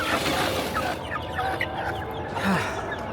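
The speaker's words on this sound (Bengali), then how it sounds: "ফুল অ্যাডাল্ট একটা মুরগি, সে ডিমও পারে।" Adult laying hens cluck in repeated short, close calls over steady farmyard background noise, with no talk.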